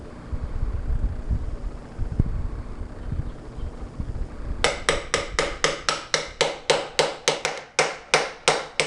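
A steering head bearing's bottom race is hammered into a Honda CB750 motorcycle frame: after a stretch of low wind rumble, a close series of about fifteen sharp, evenly spaced metallic blows rings out alone.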